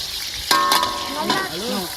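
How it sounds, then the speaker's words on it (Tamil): Onions going into hot oil in a large village cookpot, a loud burst of frying hiss that keeps sizzling steadily, with pitched clanks and a voice talking over it. "இப்போ வெங்காயம் போடுறோம்"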